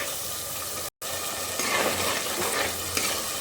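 Masala paste fries in oil with a steady close sizzle while a spoon stirs through it, one brief dropout near the start, no talk.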